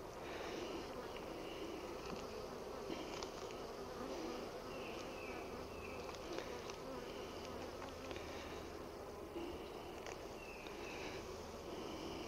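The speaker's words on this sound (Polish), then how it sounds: "Pszczoły budują pięknie ramki." Honeybees buzzing at beehive frames while they build comb, a dense, continuous swarm hum close by, faint in level and without talk.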